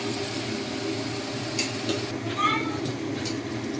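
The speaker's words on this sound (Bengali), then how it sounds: "আলু ভাজা চলছে।" Potatoes frying in a pan for a mutton dak bungalow curry, a steady low sizzle with light clinks of utensils against cookware partway through.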